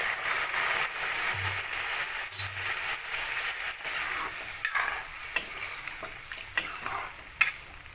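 Hot water goes into a pan of frying taro stolons and fish, giving a steady bubbling hiss with scattered ticks and clinks from a spoon while nobody speaks.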